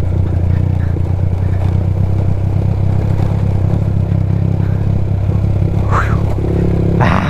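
A motorcycle engine runs steadily under load on a steep coastal road of the Bondoc Peninsula in Quezon, droning close and loud throughout with wind rush and a brief clatter near the end.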